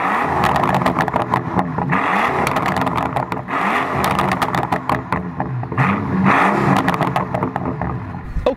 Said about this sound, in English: one little item I think you're going to want to hear, and that would be a rev of this engine